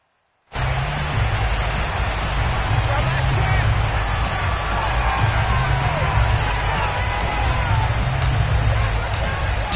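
Simulated stadium crowd in an EA Sports American football video game, fans of a home team facing the Cincinnati Bengals, kicks in abruptly after a brief silence and holds a loud, steady roar.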